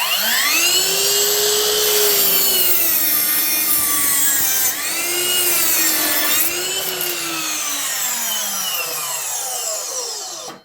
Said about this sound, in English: All right, let's make a bevel cut.